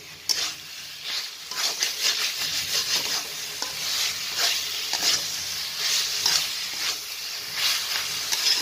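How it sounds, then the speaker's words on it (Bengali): Macaroni and a little diced carrot fry over a raised flame, hissing steadily while a spatula stirs and scrapes through them in repeated close strokes, with no voices. "একটু ভালো করে তৈরি করে নেই, এটা নাড়াচাড়া করতেই হবে"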